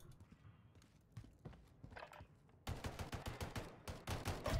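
Gunfire in the game Call of Duty: Modern Warfare: after a quieter stretch of scattered small noises, a rapid series of sharp, loud shots bursts out and continues to the end.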